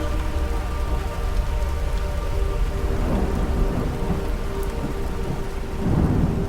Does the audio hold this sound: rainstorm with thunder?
yes